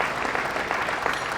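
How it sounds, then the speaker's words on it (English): A brief burst of audience applause at a sports awards breakfast, dense continuous clapping from a sizable crowd for the Minister for Sport, moderately loud and uninterrupted. "a round of applause for our Minister for Sport"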